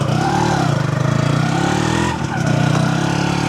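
A motorcycle with a newly fitted engine block running, a loud steady close-up engine note that holds evenly, dips briefly, then picks back up.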